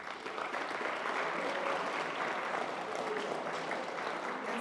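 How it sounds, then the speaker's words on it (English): An audience at a biomedical engineering STEM showcase applauds steadily, a sustained wash of clapping heard from a slight distance, with no voices breaking through. "So give yourself a round of applause."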